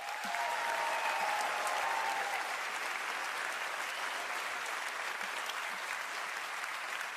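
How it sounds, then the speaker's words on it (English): An audience at the Right Livelihood Award presentation gives a big, sustained round of applause, steady dense clapping filling the hall throughout with a faint tonal sound early on. "Let's give them a big round of applause."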